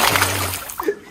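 A stone lands in water with a single nearby splash, set against outdoor noise and a brief low hum.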